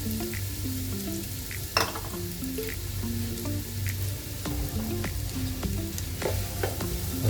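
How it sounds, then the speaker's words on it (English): Two chopped medium onions fry in about four tablespoons of hot oil over a high flame, giving a steady close sizzle with small crackles and occasional stirring scrapes throughout, no voices. "I'll fry it until it's slightly brown."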